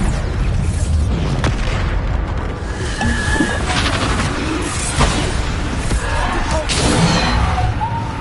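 Booming spell explosions from a Hogwarts video game, the Bombarda blast landing amid a dense, continuous wash of loud magical combat effects with repeated crashes and bursts across the whole stretch.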